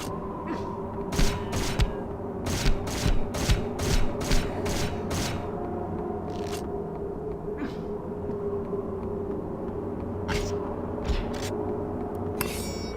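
Gunfire from shotguns and pistols in the video game Hunter: The Reckoning, heard as a series of sharp, repeated shots in quick clusters over a constant game background drone, with scattered later bursts.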